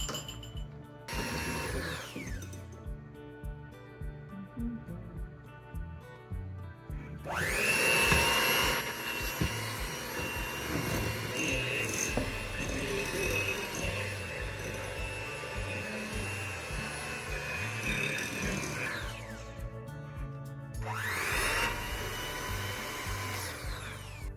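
A stand mixer with its standard beater attachment whirs loudly as flour goes in for a homemade birthday cake, running in long steady spells with brief pauses and changes in pitch.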